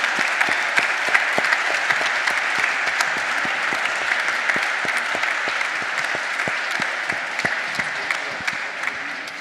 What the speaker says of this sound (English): I want to give an applause to this panel.